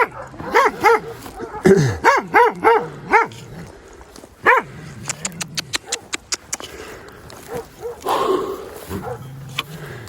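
Herding dogs barking at cows in a rural goat and cattle setting, with a string of loud close barks and yips, then rapid fainter barking and a voice.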